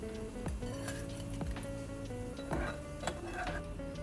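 Anchovies frying in hot oil for nasi lemak, a steady sizzle with occasional stirring clinks and scrapes of a utensil against the pan, close and continuous with no talking.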